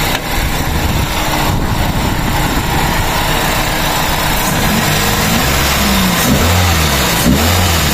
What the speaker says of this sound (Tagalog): Check natin kung okay yung pinagawa natin ng makina.